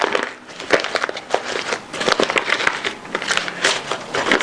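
Ghana black soap is crumpled and broken apart by hand at close range, giving a dense, continuous run of crackling, crunching and crinkling bursts.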